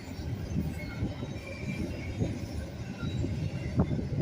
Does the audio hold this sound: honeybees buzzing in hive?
no